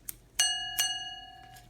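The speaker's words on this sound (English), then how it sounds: "It's the bell." A Scottish-made Westclox Baby Ben style alarm clock bell gives a few short, bright metallic rings, each one left to decay into a quiet room, with a faint tap heard just before the first strike.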